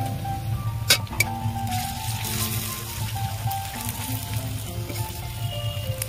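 Chopped tomato dropped onto onions fried until reddish-brown for a chicken curry, giving a steady close sizzle with a couple of sharp clatters early on and continuous frying hiss, with no one speaking.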